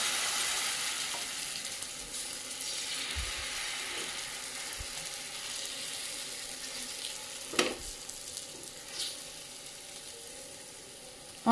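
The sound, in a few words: besan chilla frying on a griddle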